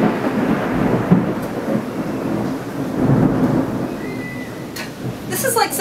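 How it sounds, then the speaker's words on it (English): Loud rumbling thunder rolls through a heavy thunderstorm with steady rain, building in waves over several seconds, with brief quieter crackles near the end. "This is like some end of the world thunder happening right now."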